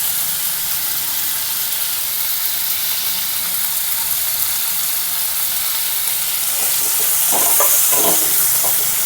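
Potatoes frying in a pan with salt and turmeric, a steady loud sizzle running throughout, joined near the end by a few scraping stirs of a spatula.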